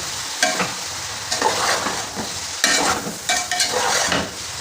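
Boiled macaroni and vegetables stirred with spices in a pan for pasta, with loud close scraping and clattering stirs in irregular bursts over a constant frying sizzle.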